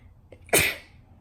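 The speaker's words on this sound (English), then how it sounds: "I had to sneeze" One loud, close sneeze with a short sharp intake before it, then quiet.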